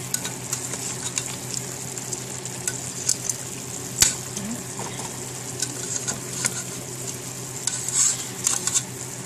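Fish frying in a pan on medium-high heat after being flipped gives a steady, close sizzle, with a few light pops and brief utensil clinks along the way.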